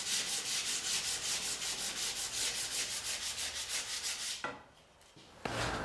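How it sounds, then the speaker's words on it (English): Light hand sanding of wood pieces with rounded-over edges, in a steady rhythm of back-and-forth rubbing strokes for about four seconds, then a brief pause and a couple of knocks. "I'm just going to take my laminate trimmer and round over some edges, and then give them a light sanding before installing them inside."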